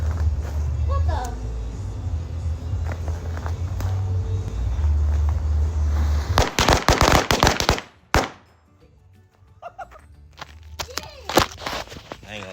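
Fourth of July fireworks burst in Arizona as rapid strings of crackling firecracker pops and sharp bangs go off at close range, followed later by scattered pops, with people talking throughout.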